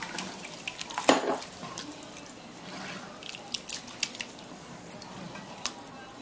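Water pours from a tap into a pan for shepherd's pie, a steady close splashing stream with a few drips and soft clinks.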